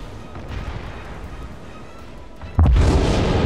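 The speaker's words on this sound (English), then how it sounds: "Oh, nice explosion." A ship blows up in World of Warships with a sudden loud boom that cuts through steady engine and sea rumble, then holds as a dense roar.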